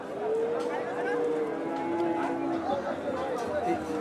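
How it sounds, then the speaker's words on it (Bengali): Cattle at a Qurbani livestock market, with drawn-out moos rising over a dense crowd of voices and general market bustle, heard at moderate distance. "অনেক গরু ঢুকতেছে কিন্তু এখনও কিন্তু গরু ঢুকতেছে অনেক"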